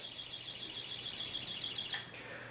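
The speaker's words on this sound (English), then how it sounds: "it lets you know that if the wires are broken, you'll hear a tone" A shrill, high electronic tone from a circuit tester warning of broken in-floor radiant heat wires beeps continuously for about two seconds, then cuts off to faint background noise.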